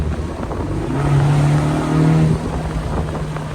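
A 2024 Ford Mustang EcoBoost Premium engine rises in pitch as it accelerates, a steady droning exhaust note swelling then easing back, with no voices.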